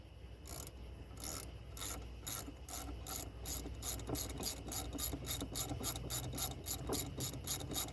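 A ratchet wrench clicks steadily while tightening a brake caliper bolt on a 2005 Chrysler Town and Country, a rhythmic series of sharp metallic ratcheting strokes speeding up toward the end, close and clear.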